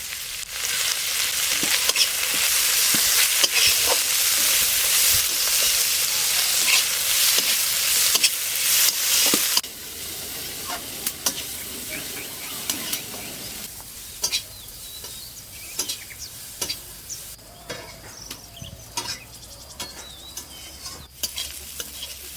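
Pointed gourd peels frying in a pan with salt and turmeric, a loud steady sizzle with occasional stirring scrapes that fades to a quieter crackle later on, with no voices.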